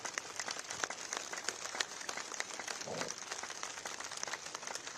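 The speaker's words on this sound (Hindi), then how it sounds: "जोर से ताली।" A group of people clapping hands steadily during a yoga session, a fast, even patter of many claps throughout, moderately loud and without talk.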